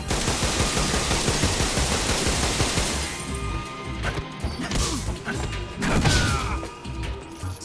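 Loud bursts of gunfire and crashing impacts in Metal Gear Solid Delta: Snake Eater, a dense continuous volley at first, then separate sharp shots and clatters over a lower game background, with no one talking.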